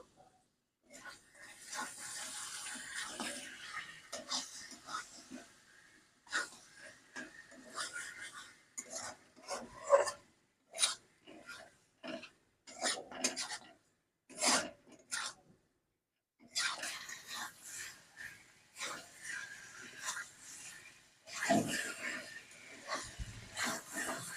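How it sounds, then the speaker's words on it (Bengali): Marinated chicken pieces, with yogurt, stirred and tossed in a pan with a spatula, giving soft intermittent scraping and clinking strokes in short bursts with pauses, fairly quiet and close. "এবারে আমি চিকেনগুলো খুব ভালো করে মিক্সড করে নেবো"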